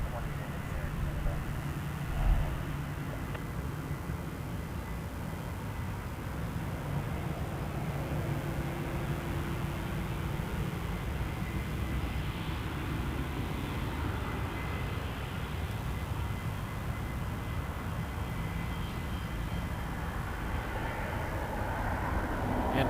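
An Air Canada airliner takes off from runway 05 at Toronto Pearson, a steady, distant jet roar that holds evenly throughout, with faint voices now and then underneath.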